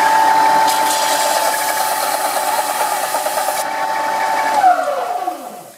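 A wood lathe runs with a loud, rattling mechanical whir and a steady tone, then its pitch slides down as it winds to a stop near the end.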